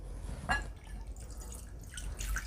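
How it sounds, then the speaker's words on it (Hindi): Water drips and trickles out during a hand soap demonstration, a few faint, close splashes over a quiet low hum, with one clearer drop early and scattered smaller ones after. "पानी निकालना पड़ेगा सिर्फ मेरे को।"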